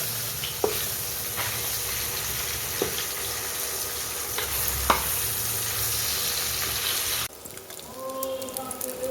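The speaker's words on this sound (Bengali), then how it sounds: "আমার সেই একই পদ্ধতিতে ভেজে নেব প্রথমে কাঁচা অবস্থাতেই চালিয়ে দেবো যাতে একটার গায়ে একটা লেগে না যায়" Pabda fish fry in hot oil with a dense, steady sizzle and occasional sharp pops, loud and close, before the sizzling abruptly drops to a quieter hiss near the end.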